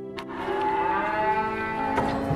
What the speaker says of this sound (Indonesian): Wolf pergi ke kandang untuk melihat sapinya yang terus bersuara.